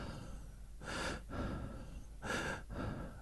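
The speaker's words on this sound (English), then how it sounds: "Oh, my breathing is very heavy." Heavy breathing, two deep slow inhalation-exhalation cycles, close and audible, with breathy rushes rising and falling and no speech.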